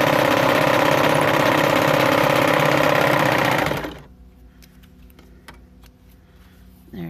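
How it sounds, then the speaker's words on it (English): A serger stitches along the sides of fabric for a hair bow, running as a loud, fast, steady mechanical whir for about four seconds before stopping abruptly, leaving quiet handling sounds. "Like I said, I'm using my serger"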